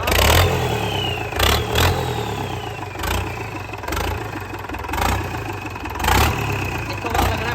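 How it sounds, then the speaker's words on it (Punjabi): A TATA 1109 truck engine cranks and catches, then settles into a steady idle broken by repeated blips of throttle, each rev swelling and fading at close range with no voices. "ਐ ਹੁੰਦਾ ਬਈ ਇੰਜਨ ਸਟਾਰਟ"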